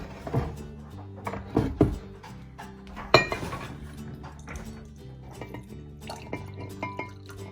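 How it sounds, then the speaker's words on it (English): Water is poured into a jar holding rocks for a craft project, giving irregular drips, splashes and clinks of stone against glass, close and fairly quiet. "Now we add the water"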